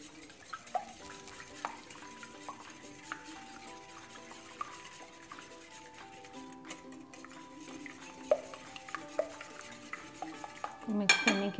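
A spoon stirs and mixes brownie batter in a bowl with soft scraping and occasional clinks against the side, a steady, close kitchen sound that grows busier toward the end.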